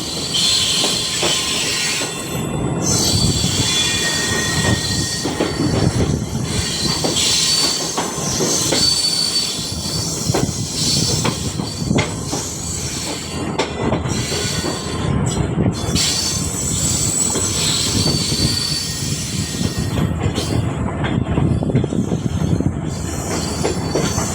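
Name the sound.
express train departing station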